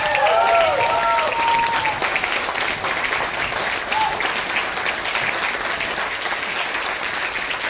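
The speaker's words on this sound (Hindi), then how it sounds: "तो आप सबकी जोरदार ताली से स्वागत करना चाहता हूं मैं।" An audience at a corporate gathering gives loud, sustained applause to welcome a training head, a brief voice at the start before the dense clapping carries on alone.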